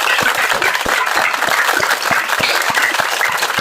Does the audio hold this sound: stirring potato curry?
no